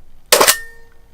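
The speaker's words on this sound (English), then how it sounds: "I can release the shutter without the film back on." A Mamiya RB67 medium format camera fires its leaf shutter with the film back removed, giving a single sharp, close mechanical snap that fades quickly into quiet.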